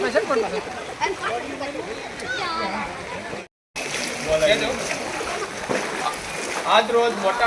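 Floodwater from the Amleshwar river surging through Pipalva village in Mahuva taluka after extreme rain broke both embankments, a steady rushing and splashing wash under continuous voices, with a brief dropout midway.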